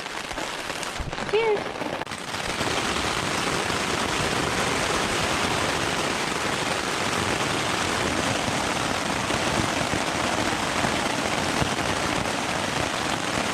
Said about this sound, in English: We got another hour or so this rain probably.